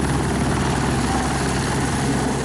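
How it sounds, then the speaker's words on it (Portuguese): Police Military Águia helicopter, a steady loud rotor and engine drone with constant broadband noise throughout, no voices. "Logo depois ele vai para o helicóptero Águia da Polícia Militar"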